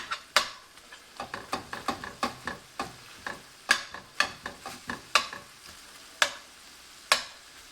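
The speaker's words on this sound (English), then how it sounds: "This chorizo's starting to cook up. Just keep breaking it down." Chorizo sizzling in a pan while being stirred and broken into crumbles, a steady run of quiet scraping and tapping strokes from the utensil over a faint frying hiss, no talk.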